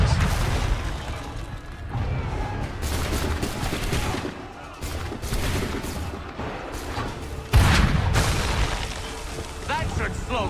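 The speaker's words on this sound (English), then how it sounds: "Am I the only one firing a cannon here?" Cannons firing in Assassin's Creed III, heavy booms and crackling gunfire bursting repeatedly in a dense barrage, one especially loud blast near the end, with someone talking over the battle.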